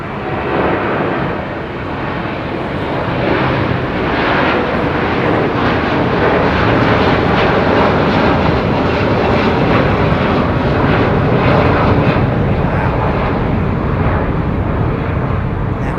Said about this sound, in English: Look how slow the gear goes up on the 330